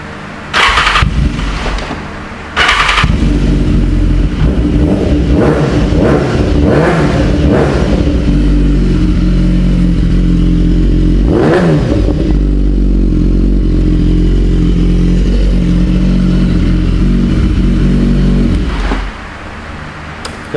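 Motorcycle fitted with an aftermarket exhaust and carbon parts: a few short cranking bursts, then the engine catches and runs loud and close, rising and falling through revs before cutting off near the end.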